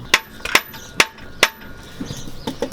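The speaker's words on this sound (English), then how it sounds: "You basically smack those bolts upwards until these pop free." Hammer taps knocking bolts to drive Delrin differential bushing inserts free, four sharp metallic strikes at an uneven rhythm, close and loud, followed by softer rattling handling noises.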